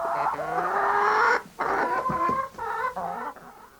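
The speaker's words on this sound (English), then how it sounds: "Good morning, Mrs. Hen." A hen clucks and warbles in a string of close, tuneful calls with brief pauses between them.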